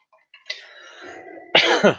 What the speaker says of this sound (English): sorry about my cough. I've had this cough for ages.